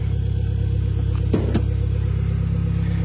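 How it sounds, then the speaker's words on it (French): A Renault Clio 4 R.S. engine idles steadily close by, its low rumble broken by two short, sharp revs in quick succession before it settles back to idle, with no one speaking. "Et Franchet, alors on va vous montrer le moteur."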